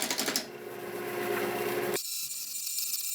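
A wood lathe spins a piece of pallet wood while it is turned round, giving a steady, close whirring and scraping hum that cuts off abruptly to a quieter motor drone.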